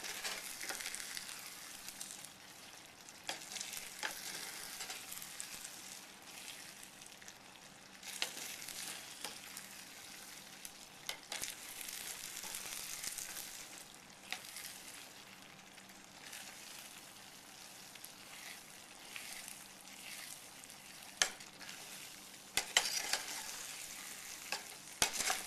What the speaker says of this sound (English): And you just keep stirring it.